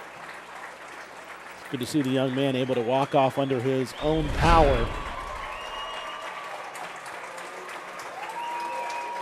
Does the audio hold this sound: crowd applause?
yes